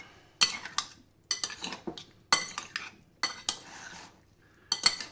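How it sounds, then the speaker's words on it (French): Cherry tomatoes are tossed with a marinade of fat, herbs and garlic in a bowl, a series of sharp utensil clatters and scrapes in uneven bursts separated by short pauses, close by and without talk. "on va simplement les mélanger avec notre marinade"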